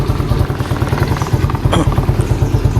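Motorcycle engine running steadily in Madagascar, a strong low pulsing drone with fast rhythmic firing throughout, close and loud with a brief clatter near the end.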